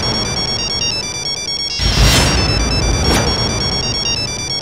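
A phone ringtone plays a repeating electronic melody of steady tones, fairly loud and continuous, with a brief burst of noise partway through and no talking.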